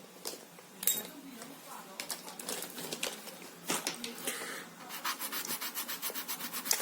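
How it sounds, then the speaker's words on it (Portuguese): A rubber eraser scrubs across paper on a desk during a geometry lesson, giving soft repeated rubbing strokes in short bursts, close and fairly quiet, with a voice speaking in between. "uma borracha para apagar aquilo ali, porque as nossas pontinhas vão ficar grandes."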